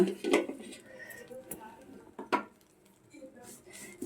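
A pan clinks and scrapes as moringa leaves are fried for a Telugu curry leaf powder, with a few sharp utensil knocks over soft background noise and a voice speaking now and then.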